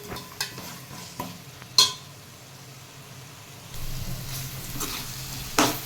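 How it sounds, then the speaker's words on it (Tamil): Biryani masala for a mutton biryani sautéing in a pan: a steady sizzle runs under scraping spoon strokes, with a sharp metallic clink and the frying growing louder toward the end. "இது நல்லா பச்சை வாசனை போகிற அளவுக்கு வதக்கிக்கலாம்"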